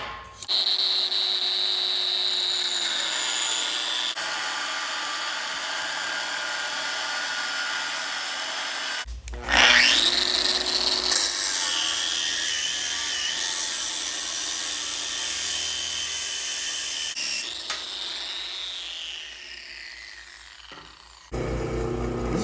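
Metal cutting on the ends of frame legs for a 1946 Harley-Davidson WR 45 flathead racer, with a whining power tool starting and stopping in long near bursts, a tone that sags under load, and rough grinding between cuts.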